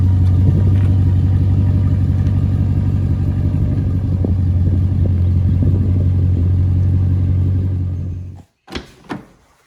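A Jeep Wrangler Rubicon 392 with a straight pipe exhaust idles loudly and close, a deep steady rumble that cuts off abruptly near the end, followed by a couple of short knocks.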